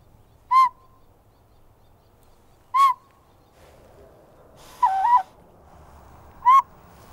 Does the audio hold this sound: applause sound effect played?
no